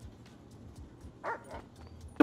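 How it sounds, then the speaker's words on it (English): A police dog in the GTA 5 video game barks a few times in short bursts at moderate distance, over a low background of game ambience. "They brought a dog!"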